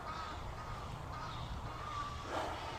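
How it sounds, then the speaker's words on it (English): A bird caws agitatedly, a few harsh calls heard faintly against a steady background hiss, with one call standing out slightly near the end. "The bird's freaking out."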